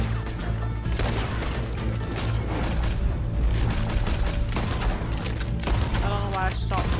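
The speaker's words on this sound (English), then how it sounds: "Who are you guys shooting at?" Dense, repeated gunfire rattles through a Red Dead Redemption 2 shootout during a bank robbery, with loud sharp cracks and bursts layered over game noise while people talk throughout.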